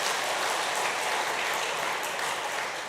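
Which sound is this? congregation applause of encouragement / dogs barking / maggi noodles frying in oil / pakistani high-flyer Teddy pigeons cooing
congregation applause of encouragement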